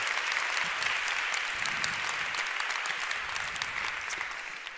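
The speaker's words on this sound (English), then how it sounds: "A warm round of applause for our dear partners" Audience at a women in tech evening applauding for the event partners, a full, even burst of many hands clapping that holds steady, then begins to fade toward the end.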